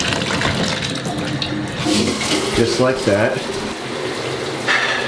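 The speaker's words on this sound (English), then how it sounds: "Let's turn on the shower." A shower runs late at night with a steady rush of water that fills the whole clip, while someone speaks briefly over it.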